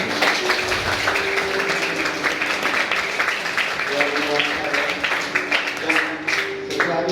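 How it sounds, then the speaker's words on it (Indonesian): Applause from a small gathering at an orphanage birthday celebration, clapping spread out and patchy, mixed with murmuring voices and chatter over the whole stretch. "Tepuk tangan."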